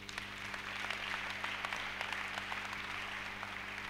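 A church congregation claps and cheers together during a sermon, a steady wash of applause that stays even throughout with no voices rising above it.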